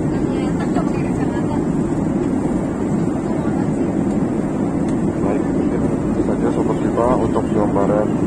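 Steady, loud broadband roar fills a Sriwijaya Air jet cabin in flight from Jakarta, a constant engine and airflow hum with faint voices murmuring underneath.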